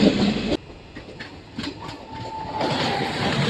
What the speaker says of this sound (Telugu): బ్యూటిఫుల్ వ్యాప్ సౌండ్లో ఒకటి వెళ్తుంది కదండి ట్రైన్